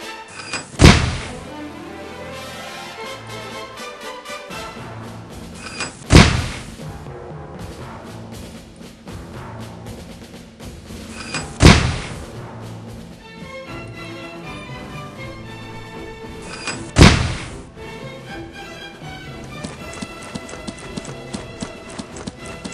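Mortar rounds in a tube fire mission boom in four sharp, evenly spaced heavy thumps against a busy background of ticking and clattering, with no talk.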